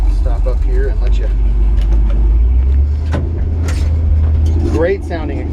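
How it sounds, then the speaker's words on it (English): Exhaust of a 1953 Ford F-100 shop truck with side-exit tips, a loud deep rumble idling and revving close by, with voices talking over it. "Great sounding exhaust. Sounds like a dang race car almost."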